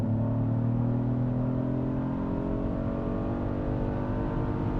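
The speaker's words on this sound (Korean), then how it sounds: "RPM을 좀 올려서 6000rpm 이상에서 변속을 하면 어떤 느낌인지 그것도 한번 테스트 해보도록" A Genesis GV80 automatic revved hard above 6000 rpm, heard as a loud, steady engine drone from inside the cabin with a smooth gear shift early on and no other sounds.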